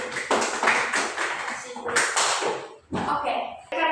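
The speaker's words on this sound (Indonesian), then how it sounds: "kita berikan tepuk tangan dulu untuk kelompok 2" Classroom applause for a student group after a presentation during a microteaching session, a burst of clapping from a small group of people nearby, with voices talking over it.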